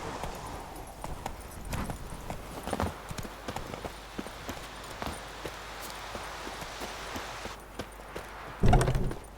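A horse's hooves clip-clop steadily at a walking pace in The Witcher 3, up close and fairly clear, with a louder thump near the end.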